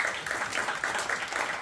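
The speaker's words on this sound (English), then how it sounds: "Let's give her a round of applause." Audience applause at a tech entrepreneurship leadership council kickoff event at Venture Café, a dense, steady patter of many hands clapping together, fairly close and alone.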